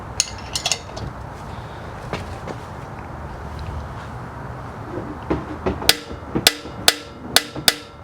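Stuck, decades-old bolt being worked loose on a Toyota 2JZ engine during a teardown: scattered metallic knocks over a low hum, then a quick run of sharp, loud clanks and snaps near the end, with no talk.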